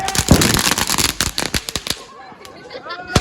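Diwali firecrackers burst in a rapid, loud string of sharp bangs and crackles outdoors, tapering into scattered pops, with people talking and calling out over the blasts.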